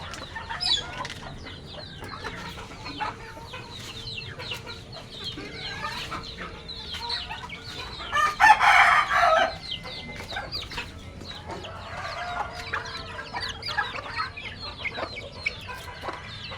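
Chickens suffering from fowl pox cluck and call softly around a farmyard pen, with a louder burst of clucking midway and faint rustling throughout.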